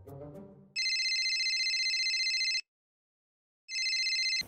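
A telephone rings in a domestic scene, sounding two long electronic ring bursts with a short gap between them, loud and close, after a brief moment of speech at the start.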